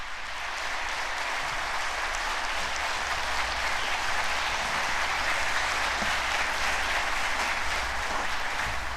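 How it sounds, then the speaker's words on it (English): Sustained, dense applause from a large audience greeting President Lee Jae-myung at a policy briefing, loud and even throughout with no voices over it. "Please give him a big round of applause."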